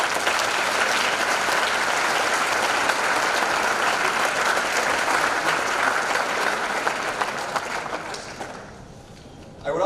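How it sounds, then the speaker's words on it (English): An audience at a school academic hall of fame ceremony claps in sustained applause filling a hall, dense and even for several seconds before tapering off near the end. "Please give them a round of applause."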